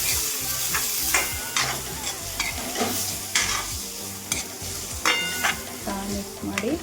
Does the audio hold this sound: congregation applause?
no